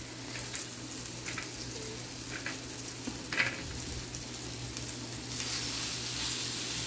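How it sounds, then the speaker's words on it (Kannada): Fish fries on a tawa with a constant soft, close sizzle and a few faint clinks, low and even throughout with no voices. "ನಮ್ಮ ತವದಲ್ಲಿ ಮೀನು ಫ್ರೈ ಆಗ್ತಾ ಉಂಟು."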